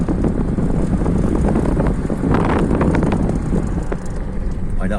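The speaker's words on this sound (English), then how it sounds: "there's probably a great big gust of wind now coming through." Wind gusts roar through a wide-open car window while driving, a loud, continuous buffeting rush that swells and eases over the road noise.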